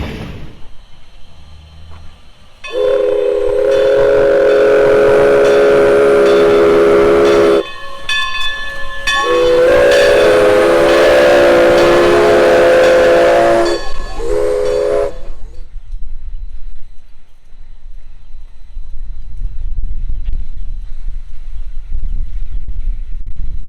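A steam locomotive on the Everett Railroad near Hollidaysburg sounds a long, loud chime whistle in two blasts with a short gap, over hissing steam, then falls quiet before low rumbling and chuffing return.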